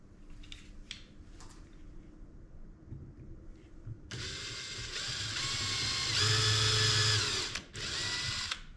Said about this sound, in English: So I'm just going to drill them by hand.